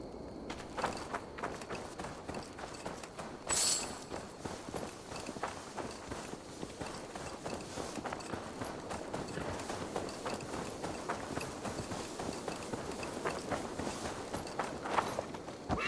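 Horse hooves clip-clop at a steady walking pace in Assassin's Creed Valhalla, a soft rhythmic clatter continuing the whole time beneath light ambient game sound.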